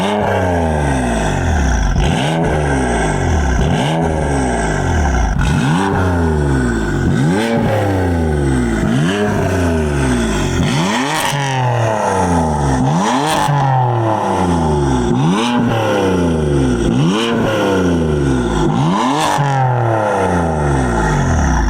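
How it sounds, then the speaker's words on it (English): A BMW M3 with an Active Autowerke single mid pipe exhaust, in efficient mode with one valve open and one closed, revs about ten times in a steady rhythm, each blip rising and falling, loud and close with no talking. "we're gonna give you guys a couple revs in efficient mode"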